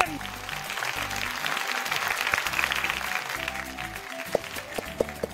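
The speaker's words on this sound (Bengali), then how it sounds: "একটা জোরে হাততালি হয়ে যাক মিস্টার রজত সরকারের জন্য" An audience applauds loudly for a guest at a gathering, a dense, sustained clatter of many hands clapping, with voices talking over it and a few sharp claps standing out as it tapers.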